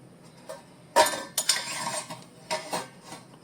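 A metal lid clanks onto a pot of sambar, with a few sharp clinks and a brief rattle of cookware against the vessel, close and moderately loud.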